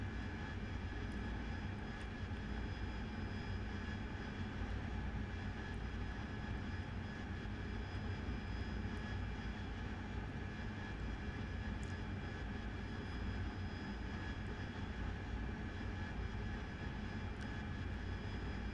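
An AV-8B Harrier jet engine in the DCS flight simulator game drones steadily for a long stretch, a continuous even roar without voices.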